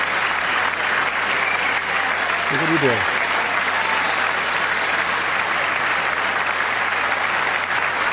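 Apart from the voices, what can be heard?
audience applause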